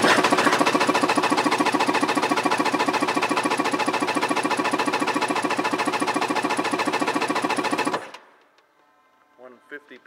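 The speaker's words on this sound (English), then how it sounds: "Engine compression test." A 1998 Yamaha GP760 jet ski engine cranks steadily on the starter during a compression test on the magneto side, a fast rhythmic chugging that runs loud for about eight seconds then stops, followed by faint movement.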